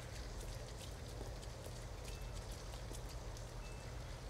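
Steady rain in the video game Detroit: Become Human falls continuously, a dense hiss of drops with occasional distinct patters, fairly loud and uninterrupted.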